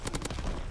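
A PPSh submachine gun in a video game fires a quick burst of about three rapid shots, loud and close, followed by a short rumbling tail.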